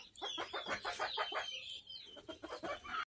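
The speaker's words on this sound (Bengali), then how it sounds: "দেখুন বন্ধুরা, দেখে নিন 8 কেজি ওজনের ব্রয়লার।" A large 8 kg broiler chicken clucks close by in a series of quick, rhythmic clucks, pauses briefly, then clucks again.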